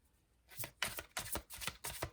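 Tarot cards are shuffled in quick bursts, five or six crisp riffling rushes in a steady rhythm after a brief quiet start, close and soft, with no talking.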